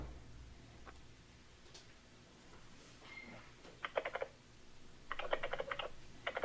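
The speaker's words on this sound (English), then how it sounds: "I've never heard that fake typing shit before." Fake keyboard typing plays faintly over a phone call to AT&T, short bursts of rapid clicking keystrokes after a few scattered single ticks, thin and tinny against a quiet line hiss.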